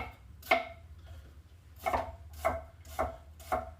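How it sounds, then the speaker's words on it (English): Kitchen knife slicing through an onion on a cutting board: five crisp chopping strokes, close and fairly loud, the first alone and the last four in a quicker steady rhythm. "onions flat, hold my hand flat, make a couple of slices"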